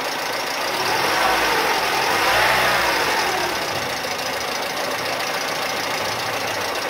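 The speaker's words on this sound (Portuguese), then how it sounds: "Agora nós vamos acelerar ele a 1000 RPM para ver quanto que vai dar aqui." A Peugeot 207 engine is held at 1000 RPM, giving a steady close mechanical hum with a rhythmic knocking texture, swelling slightly in the middle and then settling to an even idle-like drone.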